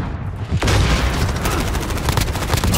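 Gunfire in Call of Duty Modern Warfare (2019): a heavy boom, then a loud, sustained rattle of rapid shots and impacts that continues to the end.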